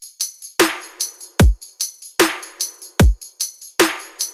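An electronic drum loop at 150 BPM: a punchy kick and a bright snare built from three layered hits, with quick ticking hats, repeating in a tight steady groove.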